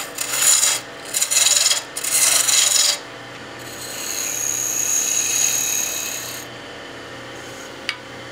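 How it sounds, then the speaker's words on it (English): A spindle roughing gouge cuts a spinning wood blank on a lathe for a cigar case: loud, harsh rasping bursts in three close passes, then a softer, steadier whirring cut, with no talk. "Get our spindle roughing gouge back out."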